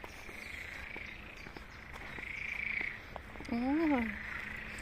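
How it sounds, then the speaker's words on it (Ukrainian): Frogs croak outdoors in a park in Pawłowice, Wrocław, with a steady trilling chorus in the background and a louder, close croak near the end. "жаби, квакухи."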